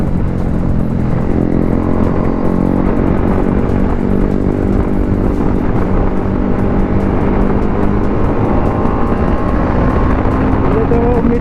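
A motorcycle accelerating along a road gives a loud, steady engine drone with strong buzzing harmonics and rushing wind noise, its pitch climbing toward the end.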